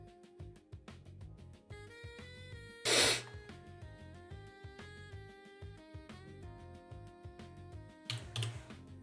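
A single sharp sneeze bursts out midway over a quiet background with soft tapping and a faint tonal hum, followed later by a brief breathy sound.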